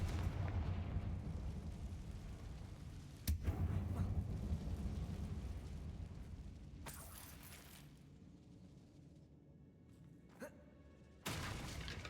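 A Confringo fire spell explodes in Hogwarts Legacy, a sharp blast followed by a rumbling, fading boom, with a few later crackling bursts and impacts against a low ambient drone.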